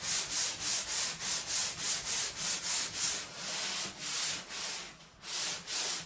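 Rhythmic back-and-forth scraping of sandpaper on a thickly painted hard surface, steady strokes close up, later slowing into longer rubbing passes, no voices.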